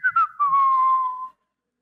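A person whistles to imitate a tea kettle: two quick chirps followed by a long, sustained tone that slides gently downward and stops cleanly, close and clear with no other sound.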